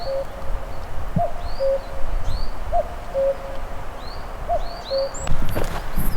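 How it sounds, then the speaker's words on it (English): A cuckoo calls repeatedly in open woodland on moorland, its soft two-note coos spaced out at a steady pace and heard from a moderate distance, with other birds chirping faintly and a gentle outdoor hiss underneath. "A cuckoo."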